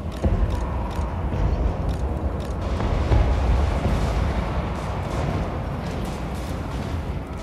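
Dwarf cannons fire in a Total War: Warhammer battle, a dense rumbling barrage of overlapping booms and blasts with crackling impacts, loud and continuous throughout, with no speech.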